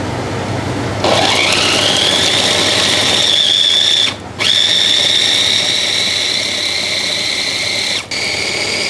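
A small grinder spins coriander root and other Thai dressing ingredients, with chilies for a seafood salad dressing. It makes a steady high whine that rises after starting and carries on loudly, broken by two short pauses.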